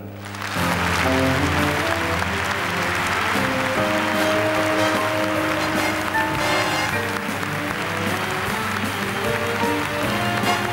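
Audience applause at the French César awards ceremony greeting Audrey Hepburn, a sustained broad wash of clapping from a large hall, steady and loud throughout, with faint music-like tones underneath.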